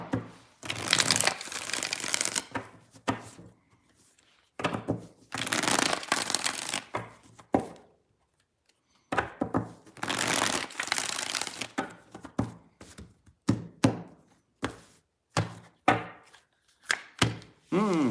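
Tarot cards shuffled by hand in several short, crisp riffling bursts separated by brief pauses, close and fairly quiet, with no talking.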